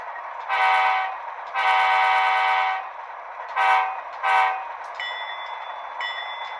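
An HO scale Walthers Mainline Dash 8-40B diesel model locomotive with DCC sound gives two long horn blasts and then two short toots. A faint bell-like ringing follows over a steady low engine hum. No one speaks.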